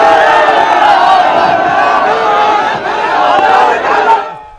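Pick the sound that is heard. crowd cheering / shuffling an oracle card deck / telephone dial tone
crowd cheering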